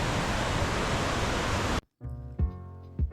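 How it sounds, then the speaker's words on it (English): The River Hollyford in New Zealand's Fiordland rushes loudly in a dense, steady roar on a rainy day, then cuts off abruptly after about two seconds into quieter, unrelated tonal sounds. "This is River Hollyford, flowing in all its glory."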